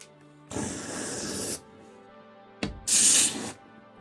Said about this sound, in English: with this spray foam if it's necessary, but I'll try to fill some holes